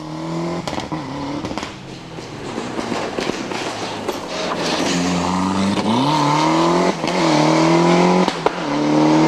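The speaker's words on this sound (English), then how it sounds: "Richard Hogg and Mark Hanna have a lot of learning to do in their borrowed Cosworth." Borrowed Ford Cosworth rally car at the 2001 Lark in the Park Rally, its engine revving loud and close as it accelerates along the stage, pitch climbing and dropping through gear changes.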